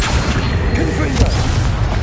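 Fiery Confringo spell blasts in Hogwarts Legacy on PS5, a dense run of booming explosive bursts with low rumble filling the whole span and a heavier hit near the middle, voices shouting over it.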